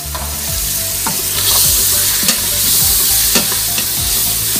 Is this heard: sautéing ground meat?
yes